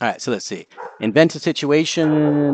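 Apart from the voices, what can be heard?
golden doodle dog barking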